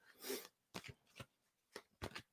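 Tarot cards shuffled by hand, soft riffling bursts and a few short slaps in an irregular rhythm, quiet and close with no voices.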